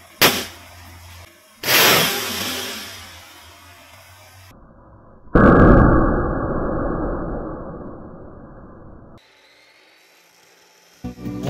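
A homemade CO2 air gun fires two sharp pops, each with a short hissing tail, then a long, loud gas hiss of several seconds cuts off abruptly, followed by near-silence and a final faint click.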